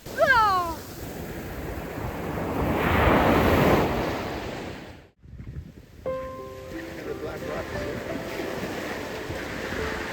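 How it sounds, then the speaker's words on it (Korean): Ocean waves washing in on a black sand beach of crushed lava rock, a broad rushing surge that swells and recedes, with wind buffeting the microphone, filmed from close to the ground. "바닥 가까이 엎드려 파도가 다가오는 것도 찍어보면서"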